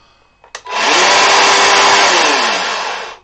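A small chainsaw fires with a couple of brief sputters, then revs to a loud, sustained high buzzing whine for about two and a half seconds before easing off. It is close and runs alone with no talk.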